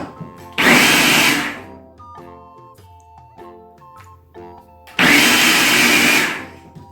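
A food processor blending hummus roars in two short pulses, with a quieter stretch of clinking and faint background noise between them.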